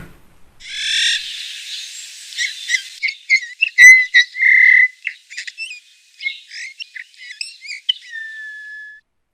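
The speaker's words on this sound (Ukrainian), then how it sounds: "Дітки, слухаємо, як цвінкає снігур." A bullfinch calls up close, a run of soft whistled notes and short chirps, some held and some clipped, spaced irregularly against a silent background.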